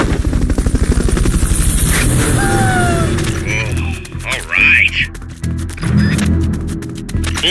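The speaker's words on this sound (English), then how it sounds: "Fulton recovery subject confirmed onboard helicopter." A helicopter lifting a Fulton recovery in Metal Gear Solid Peace Walker, with a loud rhythmic rotor thump that fades and gives way to sharp mechanical bursts and game effects, under a speaking voice.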